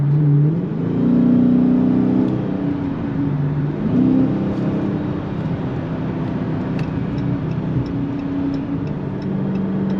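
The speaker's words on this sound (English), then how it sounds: "So far, I like the way the exhaust sounds." Deep, steady V8 exhaust drone from inside a moving Chrysler 300S 5.7 Hemi with a mid muffler delete, in sport mode at about 67 mph, rising and falling slightly in pitch as the motor revs, with faint ticking.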